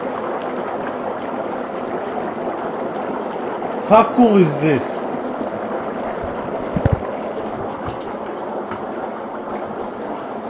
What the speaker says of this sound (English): we're gonna grab all this dry ice, about 2 pounds, and put it inside of the water.